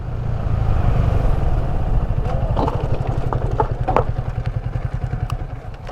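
Yamaha R15 v3 motorcycle engine with a fault, a loud rough idle pulsing in a fast steady rhythm, with light clatter and knocks over it.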